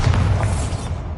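Bombarda blasting spell cast in the video game Hogwarts Legacy, a brief deep booming burst that rumbles and fades within a second.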